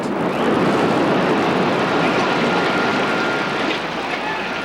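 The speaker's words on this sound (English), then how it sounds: "A jetliner bearing down on the other tower." A 727 jetliner roars loudly and continuously as it bears down on the World Trade Center tower during the September 11, 2001 attacks in New York, a dense engine rumble that holds steady throughout.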